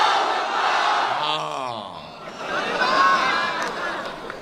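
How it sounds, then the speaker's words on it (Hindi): A big crowd at an Owaisi political rally chants the Nara-e-Takbir slogan, a single lead voice calling out and a mass of voices roaring back loudly and in unison. "तो फिर हाथा उठाकर बोलो, नारे तकबीर, नारे तकबीर।"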